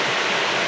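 Jungle river in Indonesia rushing steadily, a loud, close, continuous broadband wash of flowing water with no break.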